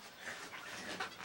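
A pet dog pants softly and quickly, a faint, breathy rhythm close by in an otherwise quiet room.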